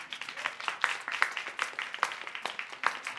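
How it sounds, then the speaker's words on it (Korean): A church congregation applauding a young member after worship, steady moderate clapping from many hands with irregular sharp peaks, heard alone without talk. "양의찬 친구 박수 한번 해줘요."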